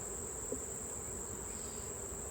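Honey bees drone in a steady, faint, high buzz during a honey harvest, heard alone with one small bump partway through.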